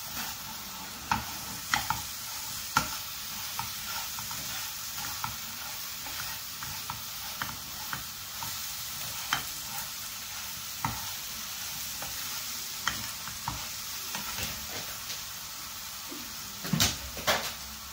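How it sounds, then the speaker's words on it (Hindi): A spoon stirs sheer khurma, sweet vermicelli cooked with sugar, in a pan, scraping and clinking at an irregular pace over a soft, steady sizzle close by, with a few sharper knocks near the end. "साथ से चम्मच चलाते रहें।"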